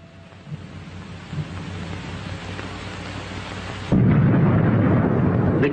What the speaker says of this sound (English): The camera feels the impact of the detonation.